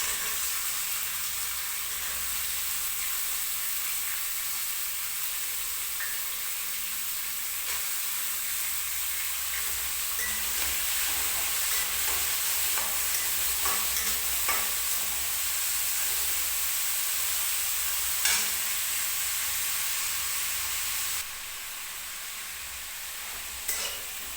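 Onions fry in a pan with a constant hissing sizzle for a long stretch, broken by occasional soft stirring scrapes and clicks, close and even in level, no speech.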